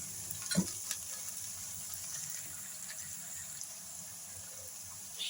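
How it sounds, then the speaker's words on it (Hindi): One tablespoon of garlic-ginger paste frying with softened onions in a pan, a soft, steady sizzle throughout with a brief utensil knock near the start. "अब हम इसमें शामिल करेंगे 1 टेबल स्पून लहसुन अदरक का पेस्ट और कुछ सेकंड के लिए हम फ्राई करेंगे।"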